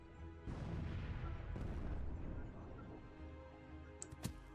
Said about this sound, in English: Bombarding us again.